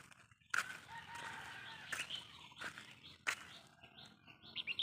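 Chickens cluck and call outdoors after overnight rain, with birds chirping around them, several short, fairly faint calls scattered over a quiet rural background.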